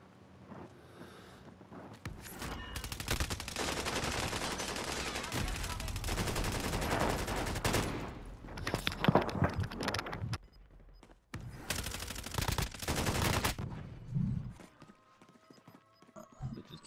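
Gunfire in Call of Duty Warzone comes as long, loud, dense bursts of rapid shots with brief gaps between volleys, followed by quieter scattered shots.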